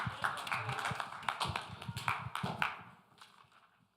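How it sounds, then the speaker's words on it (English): An evening community meeting audience applauds a speaker, the claps dense at first, then thinning and fading away over about three seconds. "Let's give her a round of applause."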